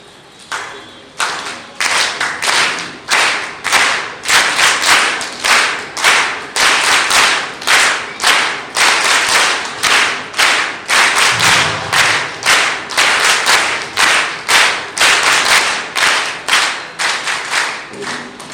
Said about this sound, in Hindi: अभी फिर से तालियां बजाना है, लेकिन जैसे मैं बजाऊंगा उसके साथ जुड़ते हुए बजाना